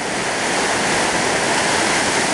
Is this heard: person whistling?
no